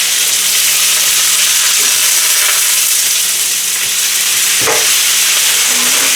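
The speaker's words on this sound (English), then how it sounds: "I'm going to go ahead and throw in some of these steak pieces, or these beef pieces" Beef pieces sear in a hot pan on a stovetop, a loud steady sizzle and crackle of frying with an occasional clink of a utensil, no talking.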